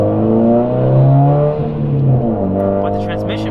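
Loud car engine fitted with a solid transmission mount revving, a strong low harmonic drone rising and dipping in pitch, close and prominent, with a voice speaking over it toward the end.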